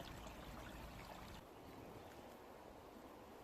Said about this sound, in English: I've got this little stream close by to my camp